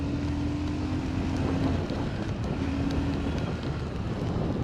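A Hero Super Splendor Xtec 2.0 125cc motorcycle is ridden at speed, giving a steady, close engine drone thick with rushing wind noise and no break throughout.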